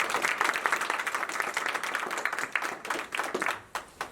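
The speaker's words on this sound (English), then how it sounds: "Again, let's give a round of applause for" Audience applause at a Black History Month celebration at an African American museum on Long Island: dense, sustained clapping from a crowd, loud and steady throughout, tapering slightly near the end.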